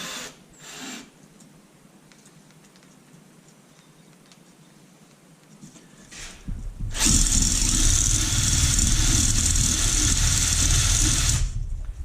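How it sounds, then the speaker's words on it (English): Quiet background with faint clicks, then an electric drill whirs up loudly and runs steadily for several seconds, honing the cylinder bore of a Honda CB125E engine, grinding with a high metallic whine. "spinning that with the drill fast enough to clean the surface of the bore up"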